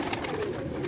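A brief burst of low, rolling pigeon coos from a rooftop loft of red-eyed pigeons, close and steady, with several birds blending together.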